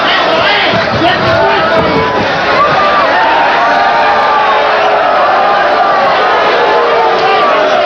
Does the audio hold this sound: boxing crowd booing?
yes